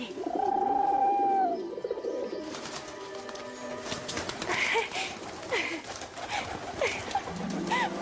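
Little birds, pigeons or doves call, first a clear high whistle, then a busy stretch of soft cooing, chirps and fluttering close by, with someone speaking faintly underneath.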